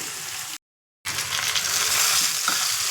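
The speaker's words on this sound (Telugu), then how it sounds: "ఇప్పుడు ఈ బాయిల్ చేసిన చికెన్ ఇందులో వేసేస్తున్నాను." Boiled chicken tipped into a hot pan of village-style natukodi curry, a loud broadband sizzle that cuts out briefly and then roars back steadily, with stirring scrapes under it and no talk.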